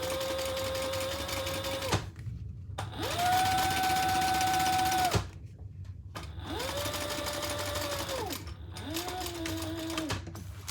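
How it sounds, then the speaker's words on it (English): Sewing machine stitching a crossbody bag's lining piece, running in four separate bursts of steady whirring hum with short pauses between, close and loud with no talking. "you're going to stitch just between this area on the lining piece"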